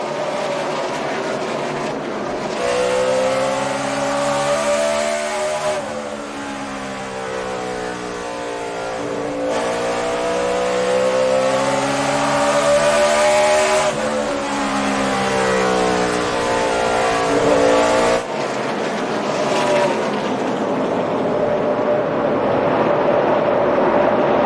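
NASCAR Sprint Cup cars roar past loudly in waves at Bristol during the Food City 500, engines rising and falling in pitch as they pass close by, with a constant crowd-like rumble beneath.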